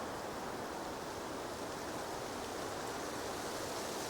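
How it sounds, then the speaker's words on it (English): Steady rain as a constant, even hiss of falling water, dense and unbroken, with no voices over it. "And on the wave of the next breath comes the rain."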